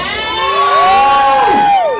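A live music crowd in New Orleans screams and cheers loudly and continuously for about two seconds, a dense wall of shrill, excited voices close by.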